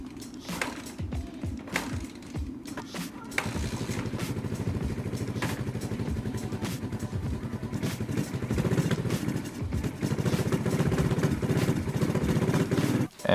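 A cheap dirt bike engine primed with starter fluid cranks and catches, then keeps running with a rapid clattering, mechanical idle that stays fairly faint and steady.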